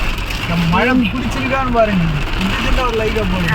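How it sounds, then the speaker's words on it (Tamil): Heavy rain driven by strong, dusty wind makes a constant loud hiss outdoors in Chennai, while a person talks over it throughout. "செம காற்று, புழுதி காற்று, செம மழை பெய்யுதுங்க"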